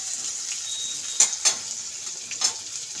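Potatoes frying in a pan for a masoor lentil soup, a steady close sizzle with a few sharp clinks of a spoon stirring against the pan, no voices.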